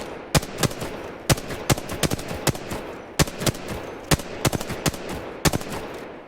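Rapid bursts of gunfire from the shooting range in the video game Apex Legends, sharp single shots and short volleys in an irregular rhythm over a steady background hum, loud and with no talk.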